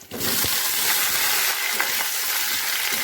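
Already-fried potato and green banana drop into a hot pan of oil with panch phoron, bay leaves and green chilli, setting off a loud, steady, close sizzle that fills the whole moment.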